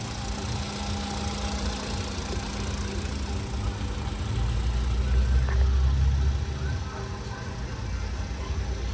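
A car engine idles at close range with a steady low rumble and slight knocking vibration. The idle swells briefly louder midway, then settles back to an even drone.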